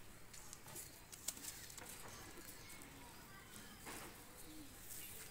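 A pair of Sakhi Teddy pigeons coo softly and faintly, with occasional light wing flutters and small knocks, sounding close but quiet.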